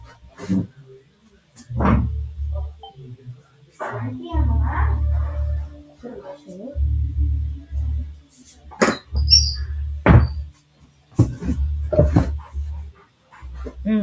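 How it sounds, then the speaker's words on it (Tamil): A puppy stuck somewhere whimpers and yelps in repeated short cries, some sharp and close, scattered across a stretch of background noise. "நாய்க்குட்டி வந்து எங்கேயோ மாட்டிட்டு கத்திட்டு இருக்குது."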